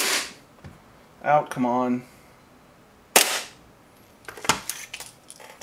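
An airsoft Nineball Hi-Capa gas pistol fires a few sharp, snappy single shots in the latter half, close and distinct, with someone speaking briefly between them in a quiet room.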